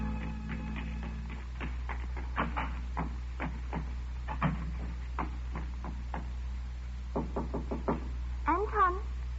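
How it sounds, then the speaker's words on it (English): In a radio suspense drama, knocks on a door sound as a series of sharp, separate raps spread unevenly over several seconds against a quiet hum, with a brief swooping tone near the end. "I waited for her knock."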